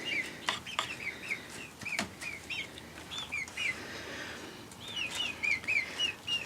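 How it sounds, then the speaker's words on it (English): Young chicks in a new coop give repeated high, thin peeps in short bursts, with soft wing flaps and scuffles between calls, close and fairly quiet. "we've got the chicks in their new little place"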